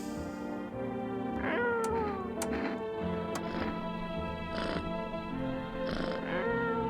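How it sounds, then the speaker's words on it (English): Cat meowing in the video game No, I'm not a Human, several drawn-out meows spread across the stretch over a steady background music bed, fairly close and clear. "Can I pick the cat up?"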